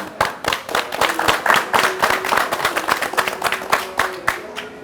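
An audience at a White Car Indonesia community gathering in Purwakarta claps enthusiastically, sharp close hand claps in a fast, uneven burst that carries on for several seconds with no talking.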